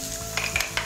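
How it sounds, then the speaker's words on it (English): Onion sizzles in olive oil in a hot pan, a steady close frying hiss with a few brief stirring scrapes. "Pop, pop, sizzle, sizzle. We know we cooking, right?"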